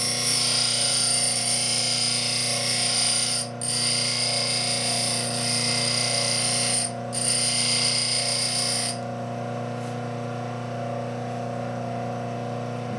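A carving gouge edge is ground on a running grinder, giving a steady, loud whirring hum with a bright metallic hiss on top. Two brief dips break it before the high grinding fades, leaving the motor humming.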